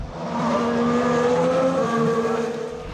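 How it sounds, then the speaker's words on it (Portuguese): A Formula 1 race car engine screams at high revs, its steady harmonic whine loud and sustained for a few seconds with no talking. "Qualquer um que escutar um barulho de Fórmula 1 tem que saber do que se trata."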